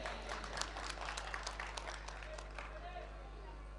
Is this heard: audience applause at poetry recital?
yes